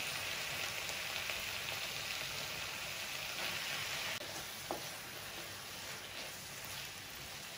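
Long-cut brinjal (eggplant) pieces sizzle in a hot pan of curry base, a dense, steady hiss that fills the whole stretch, with a faint clink partway through, close and without speech.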